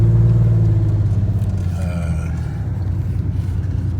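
Rough idle from a 1999 Ford Ranger 4.0 V6 with a misfire, a loud continuous low rumble with an uneven, stumbling pulse, heard up close with no talking.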